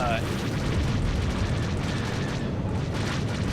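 In The Old Republic Galactic Starfighter space combat game, a rocket slams into a starfighter with a dense, roaring rumble that fills the whole stretch evenly and loudly, like a sustained explosion.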